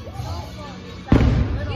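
Fireworks for a nighttime show at Magic Kingdom, Walt Disney World, burst in a sudden loud boom about a second in, followed by sustained rumbling crackle over crowd murmur and faint speech.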